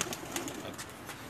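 Lakha pigeons kept by a Pakistani pigeon fancier, heard up close in a short burst of bird sound with cooing-like calls and light fluttering, no talking.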